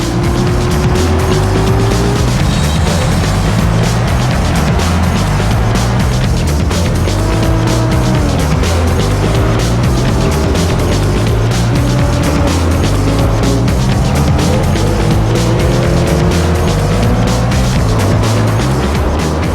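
Racing cars in the PS2 game Gran Turismo Concept roar continuously with loud, close engine drones, gear-shift pitch sweeps and tire squeals, without a pause and with no talk.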